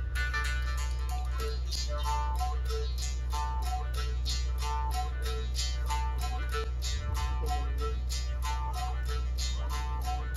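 Rapid twangy plucked buzzing from a palm-wood jaw harp (aruding) in Palawan, in a fast, even rhythm, with a steady low drone underneath, continuous and fairly close.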